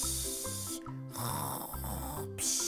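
A person fakes loud snoring while pretending to sleep, rhythmic rasping snore cycles repeating close up with short pauses between breaths, voice imitating the sound.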